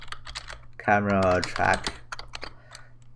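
Computer keyboard typing, a scatter of crisp close keystrokes before and after a short spoken phrase, fairly quiet against a low hum.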